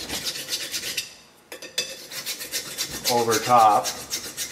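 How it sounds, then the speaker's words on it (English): A metal file rasps in repeated back-and-forth strokes over the rotor mating surface of a front wheel hub on a 100 Series Land Cruiser, close and fairly loud, with a short pause partway through. "So I just take a file,"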